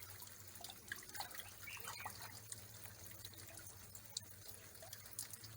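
Faint, quiet trickle of water running from a pipe into a cement-ring pond where snails are raised, a soft continuous dribble with light splashes over a low hum, outdoors in the evening.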